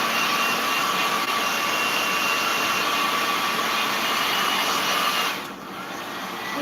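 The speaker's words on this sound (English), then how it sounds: "I'm going to use my little blow dryer and just try to speed this up a little bit" A small hand-held blow dryer runs steadily on wood chicken figures cut from 2x4 lumber to dry their paint. The whir is loud and close and continuous, then drops in level near the end as the dryer is turned down or moved away.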